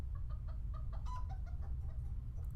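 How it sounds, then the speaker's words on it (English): Chickens cluck in the Law & Order Legacies video game, a run of short, soft, clipped clucks over a low steady hum. "Our chickens, Henny, Penny, and Maxine."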